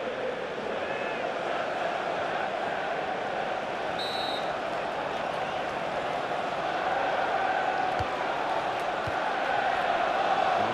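Stadium crowd roaring steadily in a Premier League cup final football video game, Manchester City against Chelsea, a dense continuous wall of cheering and chanting that swells slightly toward the end.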